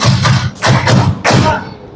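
An audience claps together on command at a school anti-bullying event, delivering three separate loud group bursts of hand claps, close and punchy, separated by brief gaps.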